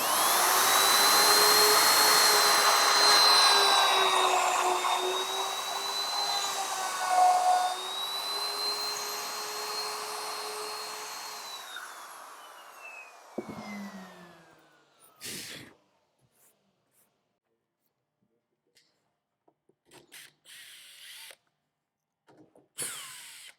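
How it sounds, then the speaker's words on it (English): A router fitted with a 12mm bit cuts a recess for a door faceplate, running as a loud, steady high whine for about twelve seconds, then spinning down and leaving a few scattered knocks and handling clicks. "now I'm going to router out my faceplate."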